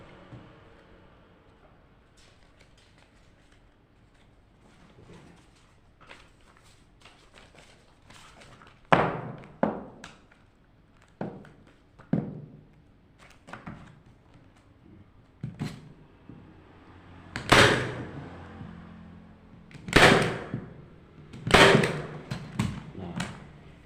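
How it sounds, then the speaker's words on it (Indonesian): Sharp thumping shots from a staple gun driving staples through a thick, hand-bound Yasin book, a series of sparse, loud clacks spaced a second or two apart with quiet handling noise between them. "staples yang digunakan adalah staples yang sistem tembak seperti ini"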